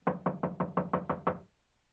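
Knocking on a study door in an old radio mystery drama: seven quick, evenly spaced raps, close and crisp, then silence.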